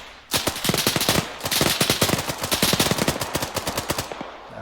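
Rapid bursts of automatic machine gun fire in the Arma 3 video game, loud and close, with a short pause before a long stretch of fast rhythmic shots.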